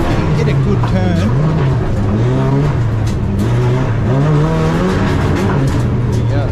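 A race car climbs the hill at the Legend of the Lakes Hillclimb, its engine revving hard and rising and falling through gear changes while a commentator talks over it.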